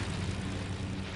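A fixed-wing propeller airplane in a hide-and-seek video game drones steadily and loudly throughout, a constant low engine hum with no talking.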